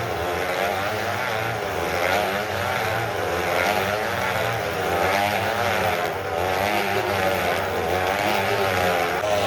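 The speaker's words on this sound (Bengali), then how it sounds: "ঘুরবে একটা বাইক।" A motorcycle riding round inside a circus globe: a loud, continuous revving engine whine that rises and falls steadily as the bike circles, under a crowd murmur.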